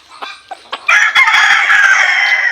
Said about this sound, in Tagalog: paminsan-minsan pa lamang siyang tumitilao